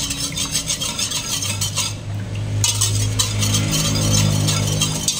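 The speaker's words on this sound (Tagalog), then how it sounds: "Haluin ang haluin hanggang sa ma-dissolve yung sugar." A spoon stirs sugar into water in a pot, making close clinking and swishing strokes against the metal, steady throughout with a short lull midway.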